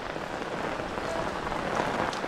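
Rain falling outdoors, a steady dense patter of drops on surfaces, fairly quiet and continuous with no voices.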